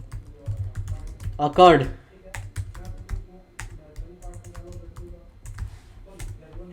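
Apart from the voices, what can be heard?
typing code on a computer keyboard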